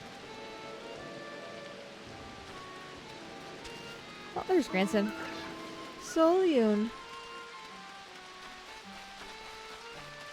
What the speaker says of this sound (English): And it's raining. I like rain.